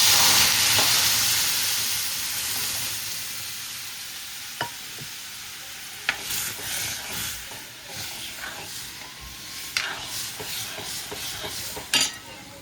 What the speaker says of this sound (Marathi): आपण भाजी फोडणीला घालून घेणार आहोत